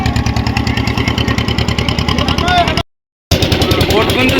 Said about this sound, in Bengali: বোট কিন্তু ছেড়ে দিয়েছে বন্ধুরা